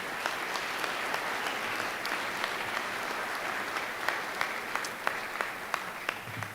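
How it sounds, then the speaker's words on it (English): A conference audience applauds the event team at the start of the second day, a steady dense wash of clapping with a few sharper claps standing out, sustained throughout with no talk. "let's please give them one round of applause on the start of day 2"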